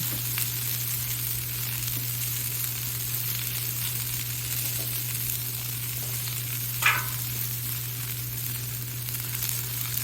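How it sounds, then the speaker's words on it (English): Bok choy sizzles on a Blackstone griddle in a steady, close, broadband hiss lasting throughout, with a hum underneath and one brief sharper crackle partway through. "now we're throwing some vegetables on the grill. This is bok choy."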